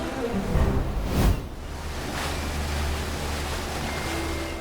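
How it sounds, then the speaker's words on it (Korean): Calm sea waves washing softly around a departing boat, a low steady wash with a brief louder swell near the start. "파도도 잔잔합니다"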